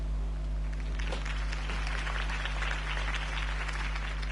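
Crowd applause from a PS4 video game, moderate and steady, over a constant low electronic hum.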